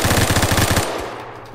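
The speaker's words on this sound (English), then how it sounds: "where am I getting shot from?" Rapid automatic gunfire in the video game Phantom Forces, a loud, steady burst of evenly spaced shots that stops abruptly after under a second and leaves a short fading tail.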